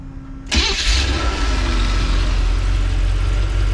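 A car's engine, just fixed after carburetor flooding, cranks and catches at once after a quiet moment, then settles into a loud, steady, rumbling idle close by.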